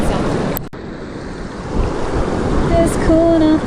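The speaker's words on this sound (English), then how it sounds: "Just cooling off my feet in the river." Water rushing around bare feet in a High Sierra mountain river, a steady close wash of flowing water and wind buffeting the microphone, with a brief clunk near the start and faint tonal hums toward the end.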